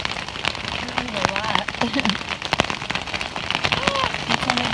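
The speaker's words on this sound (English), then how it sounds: "There's the hail. I'm so glad that we're under our tent." Hail patters densely and steadily on a tent roof during a hiking trip, a continuous close rattle of small impacts with people talking over it.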